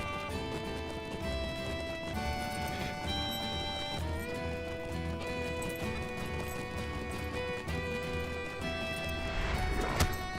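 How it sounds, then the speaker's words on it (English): Horse hooves beat in a continuous galloping rhythm in The Lord of the Rings Online, set under prominent orchestral game music, with a sharp hit near the end. "I'm gonna get knocked off on my horse."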